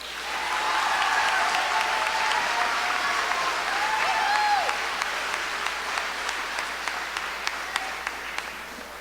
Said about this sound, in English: How about a nice round of applause for our Dodd class of 2019?